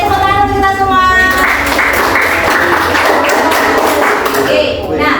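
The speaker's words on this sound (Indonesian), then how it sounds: "Oke, tepuk tangan untuk kita semua." Clapping from a group of teachers in a classroom training session rises after a brief voice and carries on steadily for several seconds, loud and dense.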